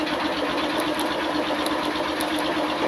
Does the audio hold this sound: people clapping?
no